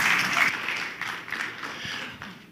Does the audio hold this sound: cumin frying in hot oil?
no